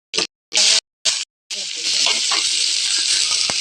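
Mustard seeds and cumin sizzle in hot oil in a pan for sambar rice, a few sharp bursts of hissing then a steady loud frying crackle with popping seeds.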